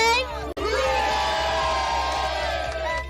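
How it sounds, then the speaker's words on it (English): A packed pub full of Bengals fans cheers loudly and steadily, with whoops and shouts mixed in, continuing without pause for about three seconds after a brief dip at the start. "Bengals fans are ready to cheer on their team this Sunday."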